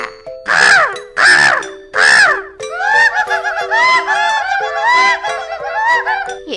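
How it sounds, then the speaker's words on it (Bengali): Cartoon chickens squawk in three loud, sharp bursts, then break into a dense, overlapping clucking and cackling chorus that stays close and bright. "এই অসময়ে মুরগিগুলো এভাবে চিৎকার করছে কেন?"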